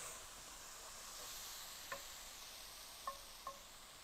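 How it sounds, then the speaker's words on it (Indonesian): Dry spice paste for Malaysian nasi goreng stir-fries in oil in a home kitchen, giving a faint, steady low sizzle with a few sharp scraping clicks from the utensil, no talking. "Kita tumis sampai harum."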